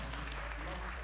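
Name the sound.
audience applause for a speaker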